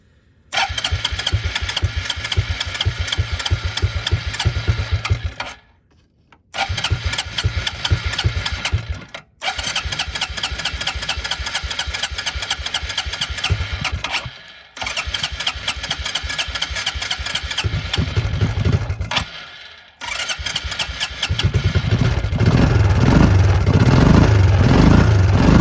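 A cheap, barely functional four-wheeler ATV engine leaking fuel cranks repeatedly in loud bursts with brief pauses between tries, then catches and runs roughly at a rumbling, uneven idle.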